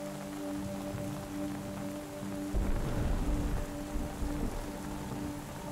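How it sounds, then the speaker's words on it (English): Rain patters on a tent, thickening midway into a heavier, denser downpour; a soft sustained musical tone hums underneath at first before the rain swells and takes over. "As the rain becomes a little heavier"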